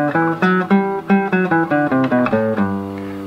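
A guitar plays a major scale starting on the sixth string in second position, single plucked notes ringing in a steady ascending sequence, clear and close with no talking.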